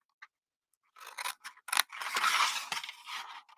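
Scissors cutting out paper craft boxes along score lines, close and crisp, with a few short snips followed by longer continuous slicing strokes and brief pauses between cuts.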